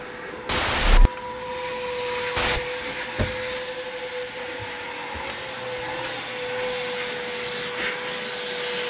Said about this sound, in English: If you wanted to know what a vacuum cleaner sounds like